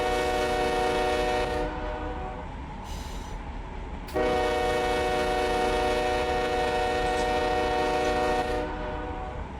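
A train on the Needles Sub sounds its horn in long, loud sustained blasts, with a short break before the horn resumes and holds steady over the rumble of rail cars.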